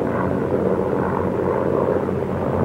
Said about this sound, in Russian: Волна вражеских самолетов рассеяна батарея Пророкова.